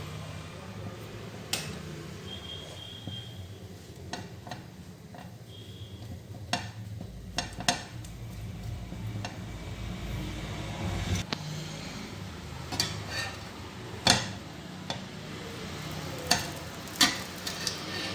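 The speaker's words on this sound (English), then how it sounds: "Roast it well until both the sides becomes golden brown." An aloo tikki patty roasts in a pan beside burger buns, giving a low, continuous sizzle broken by sharp ticks and clacks of a spatula, with louder knocks toward the end.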